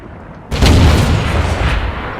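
A single heavy artillery shot from World of Tanks booms in after a quiet moment, a loud close blast with a rumbling tail that rolls on for over a second, no talk.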